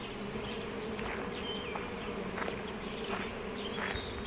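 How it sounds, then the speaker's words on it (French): Steady, dense buzzing of many bees at a rural apiary, a continuous droning swarm close by with a few louder insects passing near the microphone, no voices. "elle prêta l'oreille au bourdonnement des abeilles, plus intense que l'habitude."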